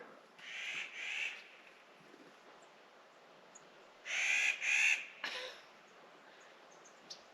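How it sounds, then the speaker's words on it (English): A very vocal bird calls loudly near Two Rivers Lake in Rocky Mountain National Park, letting out two pairs of harsh, close bursts separated by a few seconds of quiet outdoor air. "We've got a very vocal bird out here right now."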